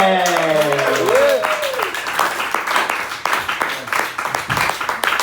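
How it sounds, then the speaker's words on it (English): A comedy club audience claps and cheers for a comedian, the applause swelling into a dense, lively patter that continues to the end, with a voice speaking over the start. "Come on, get the clapping happen, yo."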